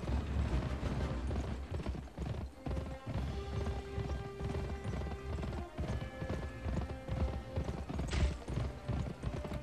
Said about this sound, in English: Why's your horse so damn slow?